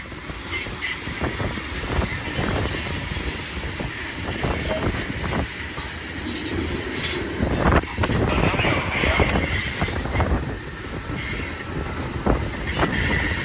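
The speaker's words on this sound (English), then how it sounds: "Nice freight train here, main track number 2." A long BNSF manifest freight train with tank cars rumbles past on main track 2 at Sullivan's Curve, Cajon, steady and loud, with rhythmic wheel clacks and occasional metallic squeals throughout.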